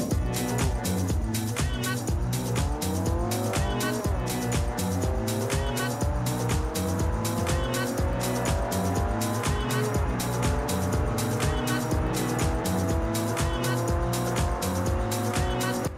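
A small Toyota Yaris driven in Forza Horizon 2, its engine note climbing steadily through the revs with a sharp repeating pulse, tires squealing as it corners, loud and continuous for the whole stretch.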